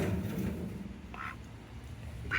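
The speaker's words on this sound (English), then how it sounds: "They're just the talkers. The goose and the gander." A goose and gander honk outdoors in a backyard critter pen in summer, giving a few short, fairly close calls spaced across the moment with quiet gaps between them.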